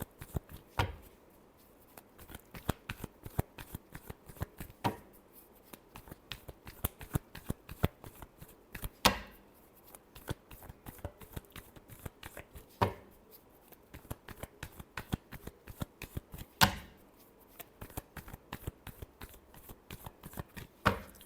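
Tarot cards are shuffled by hand in quick, crisp riffling bursts, close and repeated steadily with brief pauses and sharper taps where the deck is squared, with no voice over it.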